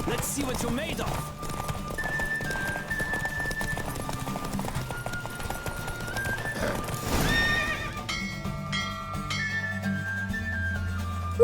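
Horse galloping with steady clip-clop hoofbeats and loud neighs and whinnies in a Witcher 3 horse race, mixed with game music and voices speaking over the action.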